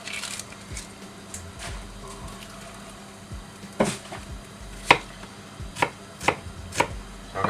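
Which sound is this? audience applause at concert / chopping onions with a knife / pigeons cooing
chopping onions with a knife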